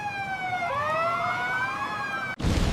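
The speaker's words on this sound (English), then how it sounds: "This is an ambulance." An ambulance siren wails loud and close with a steady rising and falling tone, then cuts off abruptly into a burst of broadband noise at the end.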